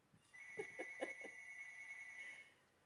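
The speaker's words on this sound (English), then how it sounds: "And there goes the phone, which I thought I turned the ringer off on the phone." A telephone rings with a bright, steady electronic trill in bursts over about two seconds, fairly faint in a quiet room and heard alone.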